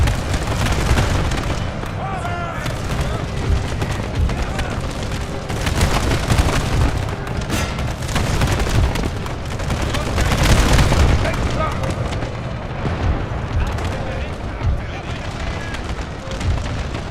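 Musket volleys and artillery fire from a Napoleon: Total War battle set in the Seven Years' War, a dense, loud, continuous roar of booms and crackling shots layered without pause.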